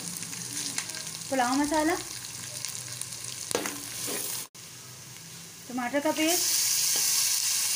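Garlic-ginger paste, garam masala and tomato paste frying in a pot for pulao, a steady close sizzle with occasional stirring, while someone talks over it in short phrases.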